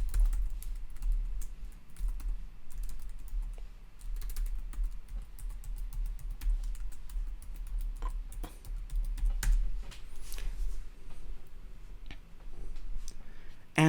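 Someone types on a computer keyboard, close and crisp, with quick irregular keystrokes and short pauses running throughout.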